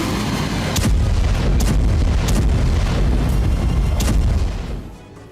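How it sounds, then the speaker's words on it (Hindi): Explosions from a missile attack at Bryansk airport: a series of heavy booms and blasts, several sharp impacts over a continuous loud rumble, fading at the end. "धमाका हुआ और कई फीट ऊपर तक आग का गुबार उठा।"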